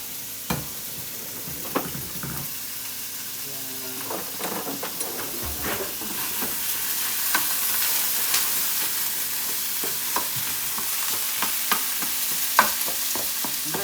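Ground meat browns in hot oil in a pan for a taco dinner, giving a steady, close sizzle and hiss. A utensil scrapes and taps the pan now and then as the meat is chopped and stirred.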